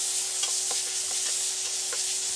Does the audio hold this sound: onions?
yes